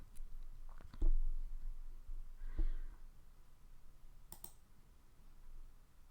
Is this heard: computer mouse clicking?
yes